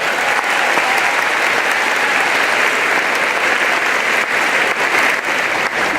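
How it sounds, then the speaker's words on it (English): Loud, sustained audience applause at an elementary school welcome-back keynote after an introductory video, a thick wash of clapping hands with faint cheering, steady for the whole stretch. "Can we give a big round of applause for that?"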